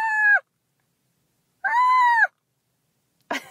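A human voice mimics a distressed Canada goose with two harsh, nasal honks, the second longer, separated by silence and followed by the start of a third.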